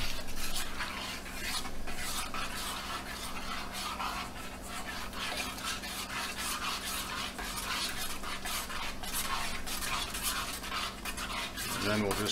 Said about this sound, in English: We'll kind of sprinkle it in and stir it